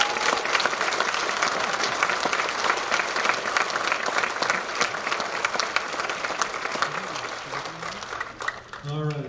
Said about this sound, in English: How about a round of applause for all that she's